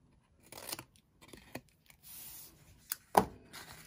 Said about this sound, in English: cut up to that score line, and then I usually do a little cut in right there